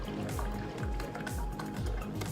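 Wine poured into glasses at home while cooking, a soft gurgling, trickling stream with repeated glugs from the bottle, fairly close and steady, no voices over it.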